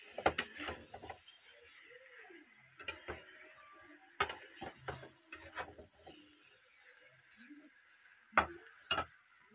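Food with turmeric being stirred and sautéed in a pan, with faint intermittent scrapes and taps of a utensil against the pan and quiet gaps between them.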